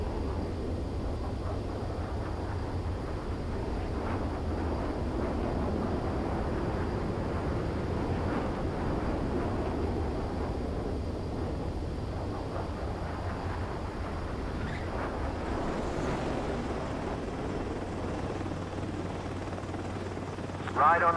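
Jet aircraft in Ace Combat 7 touching down on a runway: a steady, fairly loud engine roar with low rumble runs throughout, a brief sharper burst near the end, with a radio-style voice faintly under it.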